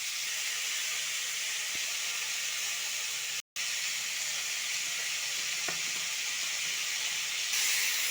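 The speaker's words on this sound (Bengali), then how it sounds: "আলুটাকে আমি লাল লাল করে ভেজে নেব" Potatoes fry in oil in a wok, giving a constant bright hiss and sizzle at low level, nearly unbroken apart from one brief dropout, with no talk.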